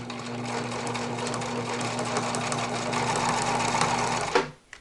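A Husqvarna Viking 190 sewing machine runs steadily through a zigzag stitch, a continuous close whirring motor hum with rapid needle chatter that stops abruptly near the end.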